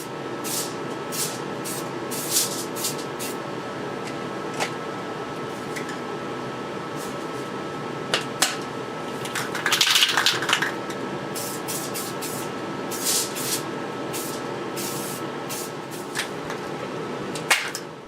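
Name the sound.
spray painting foil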